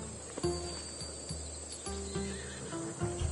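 A horse in the video game Assassin's Creed Odyssey gives several short, harmonic neighs and whinnies in quick succession, fairly close and clear with no talking.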